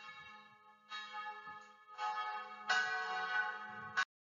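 Church bells ring in overlapping, sustained bright tones that swell in a few waves and then stop abruptly, with no voices present.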